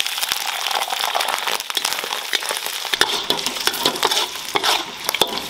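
Pork skin is stir-fried in a wok with Sichuan peppercorns in oil, giving a bright, crackling sizzle with repeated scraping and clattering strokes of a spatula against the pan, close and fairly loud, without talk.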